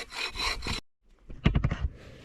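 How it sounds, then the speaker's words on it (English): A big tree trunk being cut into logs with a hand saw at a creek campsite, rasping back-and-forth strokes in two short bursts separated by a brief pause, close and fairly quiet. "after 20 minutes of sawing, I went ahead and got another chunk out."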